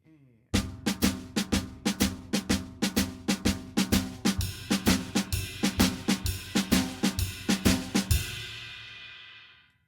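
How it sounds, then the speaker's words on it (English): A drum kit plays a steady big band shuffle with a bright ride cymbal ringing over snare and kick, ending with a crash that decays into silence. "do 2 bars of the snare drum shuffle and then move the right hand over"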